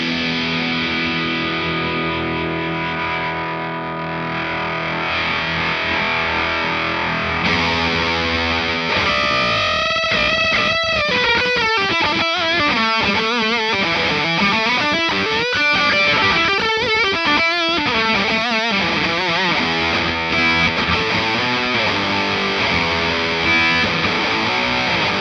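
Electric guitar played through a Boss DS-1 distortion pedal with the distortion turned down, giving a clearer, more defined crunch; sustained chords give way to a busy riff with articulated notes, loud and continuous with no talk.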